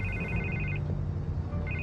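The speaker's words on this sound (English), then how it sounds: "And I can't get the phone to stop ringing." An electronic telephone ring from Batman The Telltale Series, two short repeated trilling bursts separated by a pause, heard fairly clearly over a low background hum.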